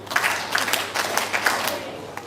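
A brief burst of scattered clapping from a small crowd at a primary school 4-H public speaking competition in Dominica, steady and moderately loud, with faint voices mixed in.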